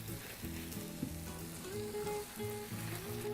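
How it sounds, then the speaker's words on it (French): Sliced onions frying and slowly caramelising in oil in a pan for an onion compote give a steady, soft sizzle that runs throughout, with faint clinks and tonal sounds layered over it. "Les oignons ont bien commencé à caraméliser."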